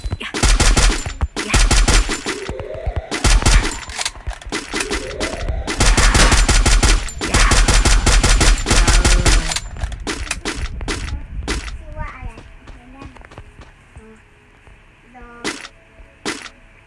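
Rapid bursts of gunfire in the Free Fire battle royale game, loud repeated automatic volleys with short pauses, fading to scattered single shots and clicks toward the end.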